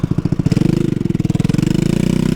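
A scooter engine with a bad exhaust, running loud and close with a rough, rapid, pulsing putter that stays steady and slightly quickens as it revs a little, with no voices.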